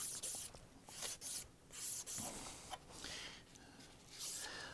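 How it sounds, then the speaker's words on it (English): Sandpaper being rubbed over the cork on a saxophone neck joint in quick, repeated close strokes, a soft, rhythmic scratchy rasp with brief pauses and no talk. "we want to sand in the direction of the overlap"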